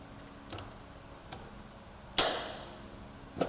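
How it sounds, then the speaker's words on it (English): The six plastic clips on the air box cover of a 2023 Polaris Pro XD mid-size gas utility vehicle are unlatched, giving a few faint clicks followed by one sharper snap, all close and quiet with no talk. "Next, unlatch the 6 cover clips."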